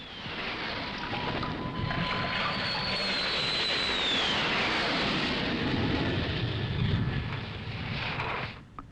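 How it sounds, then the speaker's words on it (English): Military planes roar overhead during wartime bombing over North Vietnam in 1966, a loud, continuous drone with wind-like rush and a slowly descending whine, steady for most of the stretch before cutting off at the end. "the only sign of the Americans is the roar of planes overhead and the bursting of bombs on the ground"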